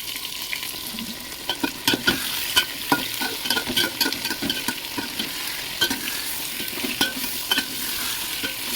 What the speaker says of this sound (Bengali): বাটা মশলার সঙ্গে এঁচড়টা ভালোভাবে কষে নেব বা ভেজে নেব